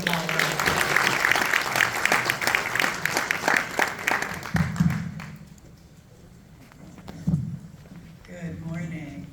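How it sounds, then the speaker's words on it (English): Audience applause at a community empowerment summit panel, a dense wash of clapping for about five seconds that then thins out and fades, with brief scattered claps afterward. "Let's give them all a round of applause."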